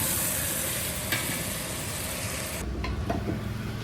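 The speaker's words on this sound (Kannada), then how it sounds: "ಆನಿಯನ್ಸ್ ಚೆನ್ನಾಗಿ ಫ್ರೈ ಆಗೋ ಗಂಟ ಹುರ್ಕೊಬೇಕು" Onions fry in a pan for biryani, giving a dense, continuous sizzle that shifts partway through, with a faint engine-like hum in the background.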